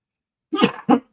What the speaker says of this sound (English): about 3 hours ago, I started coughing again